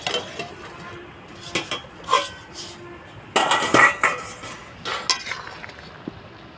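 Metal lid set onto a cooking pot of simmering jackfruit kalia, with scattered clinks and clatters of metal and utensils, close and sharp, including a louder burst of rattling near the middle.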